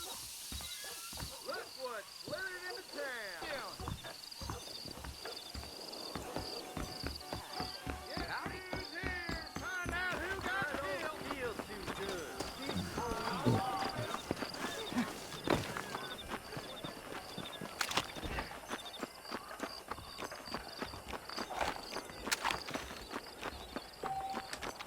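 A horse in the desert area of the video game Red Dead walks with clip-clopping hooves, a fairly quiet rhythm of hoof strikes. Game sounds and someone talking run over it now and then.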